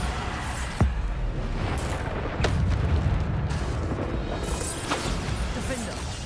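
Bombarda spell blasts in the Hogwarts Legacy video game, a few booming bursts with sharp cracks scattered through a dense, steady din of combat noise, with speech present throughout.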